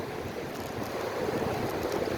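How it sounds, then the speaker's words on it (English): Ocean waves break on a Fort Myers Beach, Florida shore with seaweed piled up near high tide, giving a steady, wind-buffeted wash of surf that stays continuous throughout. "But it's making for some awesome waves."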